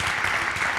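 An audience applauds at an interview event, dense continuous clapping close and loud, filling the whole moment without voices.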